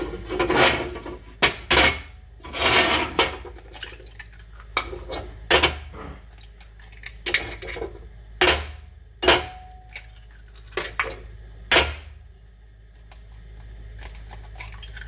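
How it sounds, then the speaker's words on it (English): A utensil clicks and scrapes against a bowl while six eggs are scrambled for a potato omelet, in sharp, irregular bursts with short pauses between strokes. "we're going to go ahead and scramble the 6 eggs"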